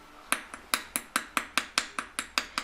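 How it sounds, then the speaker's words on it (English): A small hammer taps wire rivets for jewellery, producing about a dozen crisp, close metallic strikes in a steady, fairly quick rhythm, each ringing briefly before the next, with no talk. "you can finish it with the face of the hammer to flatten and smooth it"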